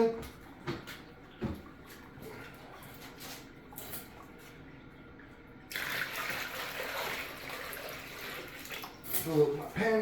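Water runs into a panning tub outdoors during gold prospecting in Colorado, a faint splashing flow that swells partway through, with a voice talking over it in places.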